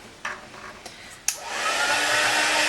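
A crafting heat tool starts up and blows steadily at close range to melt embossing powder, giving a loud, constant fan-like whoosh after a few small taps and clicks.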